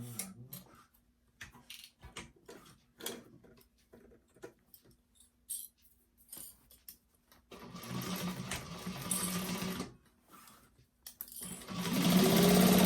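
A sewing machine stitches a half-inch seam along the bottom of a Solangel bag, running in short, stop-start bursts at first, then in two longer, louder continuous runs near the end.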